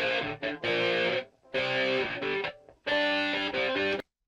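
A dry, unprocessed electric guitar plays the intro riff in three sustained distorted phrases with short gaps, close and loud, ending abruptly.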